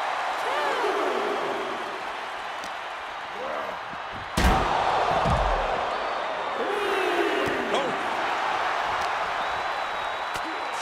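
In the WWE 2K23 video game, a wrestler slams an opponent's face down with one heavy, loud impact midway, set against a continuous crowd roar and commentary.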